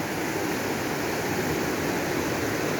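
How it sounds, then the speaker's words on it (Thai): A forest flash flood surges past as a loud, steady roar of rushing water, a broad unbroken wash of noise with no voices. "น้ำไหลค่ะ"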